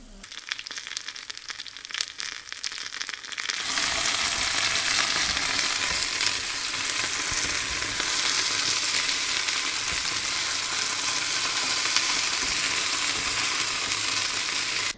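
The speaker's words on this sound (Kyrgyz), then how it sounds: "Мынакей азыр пиязыбыз менен болгар калемперибиз кууруп атат" Onion, bell pepper and meat hit a hot pan, a quiet start giving way to a loud, continuous sizzle and crackle that holds to the end.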